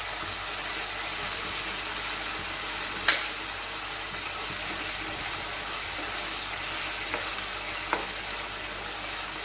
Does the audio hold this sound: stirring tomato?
yes